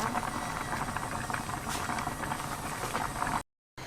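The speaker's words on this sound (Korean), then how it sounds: "자 20분 끓이니까 감자가 다 졸았어요" Red chili paste potato stew simmering in a pot with mushrooms, chives and onion, a soft steady bubbling patter heard alone and fairly faint for several seconds before cutting off.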